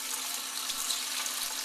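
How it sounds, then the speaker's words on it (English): Cold water runs steadily from a sink tap over seafood being rinsed, a constant close hiss of flowing water with no pauses or speech. "you want to continue to run the water, the cold water, over the seafood"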